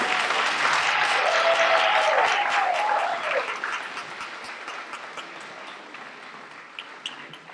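An audience at a Teacher of the Year awards ceremony applauds loudly, the clapping swelling briefly, then fading gradually into scattered claps.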